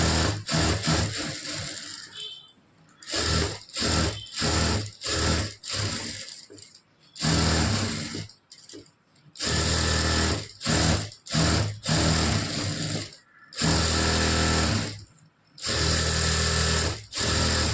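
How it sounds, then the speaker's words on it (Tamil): A sewing machine stitches the lining of a Poonam saree blouse in repeated bursts of motor whirring, separated by short pauses as the fabric is repositioned, fairly close and loud. "இப்போ அடுத்தது வந்து நான் தைக்கிறேன் பாருங்கள்"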